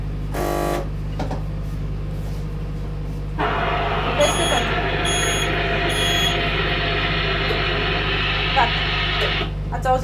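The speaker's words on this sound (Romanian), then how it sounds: "Ați auzit și alarma de incendiu, da?" A fire alarm sounding indoors, heard as a steady electronic tone with a harsher buzzing alarm that starts partway through and holds on, over a constant low hum.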